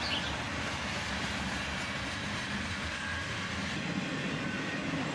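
CSX freight train rolling past with its tail end going by, a steady broadband rumble of rail cars and wheel noise sustained loud and close throughout, no voices.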